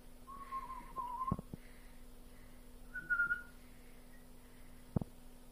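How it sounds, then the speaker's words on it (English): A person whistles sharply to catch someone's attention, two clear whistled tones a few seconds apart, fairly close, with soft clicks and knocks around them and no talking. "Don't whistle him, he's not a dog."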